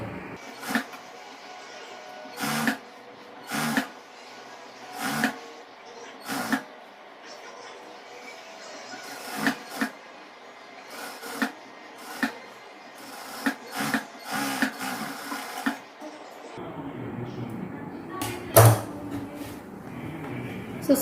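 A sewing machine runs a double stitch along a chudidhar top, its stitching heard in short repeated bursts with pauses between, fairly close and moderately quiet, with a voice talking at points.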